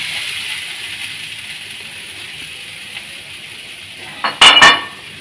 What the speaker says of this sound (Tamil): இந்த வேக வச்ச சுண்டலை இதுக்குள்ளே கொட்ட வேண்டியதான்